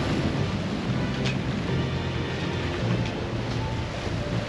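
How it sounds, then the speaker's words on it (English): Steady broadband rush of water streaming past a sailboat hull at 8 knots on open sea, continuous and close, with wind noise on the microphone and no talk. "Water's rushing all around."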